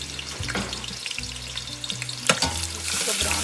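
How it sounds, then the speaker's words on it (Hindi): Onions sizzle and crackle steadily in hot oil while a chicken mandi rice dish is cooked, with a few brief stirring scrapes and clinks over the continuous frying noise and no talking. "हमारा गर्म हो गया, अब हम इसमें प्याज डालेंगे।"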